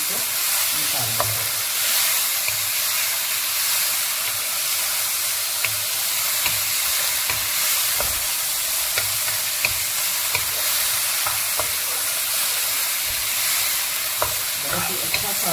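Chicken frying in a pan for fajita pasta with lemon and black pepper, a steady dense sizzle running throughout with repeated scraping stirs of a utensil against the pan, close and continuous with no talking.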